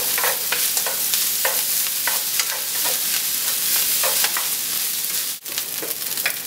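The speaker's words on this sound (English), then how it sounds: "Crack the egg in the rice. And, you know, just stir it around." An egg is stirred into rice frying in a pan. A continuous sizzle carries rhythmic scrapes of a spatula pushing the rice around, with one brief dropout near the end. No one talks.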